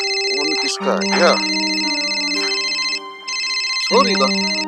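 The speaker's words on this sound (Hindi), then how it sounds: "फोन किसका है क्या?" A telephone rings with a bright electronic ringtone in repeating bursts indoors during a Haryanvi drama scene, while people talk over it.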